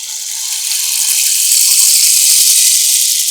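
A traditional Chhattisgarh folk instrument from India, played to mimic falling water, gives a steady bright hiss and rush that swells slightly and keeps going without a break, close and fairly loud, with no voices over it.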